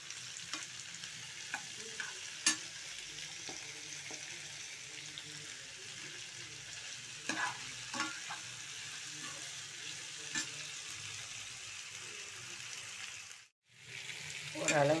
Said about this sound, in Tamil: பச்சை மிளகா, பூண்டு, வெங்காயம், கத்திரிக்காய் எல்லாம் போட்டு நல்லா வதங்கணும்